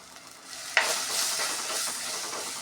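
Fish curry masala sizzles and hisses steadily in a pan, with a sharp scrape of a stirring spoon near the start, then a continuous close frying crackle.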